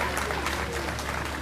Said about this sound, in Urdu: یہ زبردست تالیاں دیں